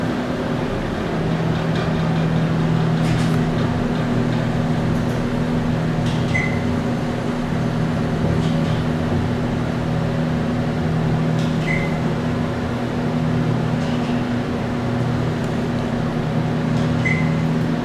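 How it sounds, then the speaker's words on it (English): Loud, constant fan drone in the machine room of a Dover Impulse hydraulic service elevator, a steady hum with a few faint clicks and tones scattered over it and nothing else breaking through. "I wish that fan isn't loud so you hear the motor."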